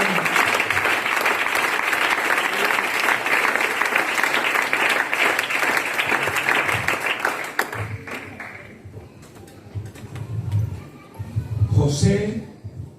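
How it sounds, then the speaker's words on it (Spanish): Church congregation applauding during a sermon, a dense, loud burst of many people clapping that lasts several seconds, then fades into scattered voices and a few remaining claps. "Denle un aplauso al Señor."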